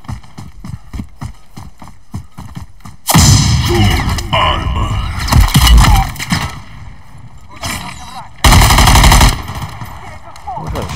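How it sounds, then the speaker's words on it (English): Enemy gunfire rings out in the Modern Warfare 3 Zombies shooter: rapid bursts of loud, close automatic shots, with quieter repeated clatter between two dense barrages. "he's shooting me"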